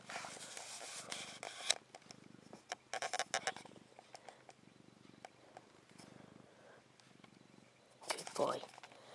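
A pet cat purring softly up close, a faint rumbling purr broken by soft rustles and handling noises, with a voice speaking quietly over it.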